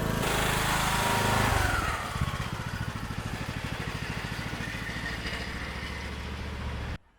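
A lawn tractor engine runs to warm up, first with a louder, rougher roar, then dropping to a steady, close, pulsing idle that lasts until it cuts off abruptly at the end.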